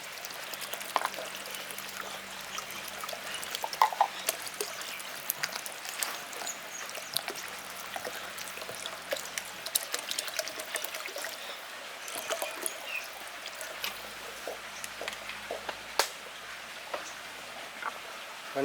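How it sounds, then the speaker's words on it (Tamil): Water being poured into a simmering Tamil fish curry in a pot, heard as a steady, soft trickle and splash that runs for a long stretch, close but quiet. "இப்போ நம்ம தேவையான அளவு தண்ணி சேர்த்துக்கிறோம்."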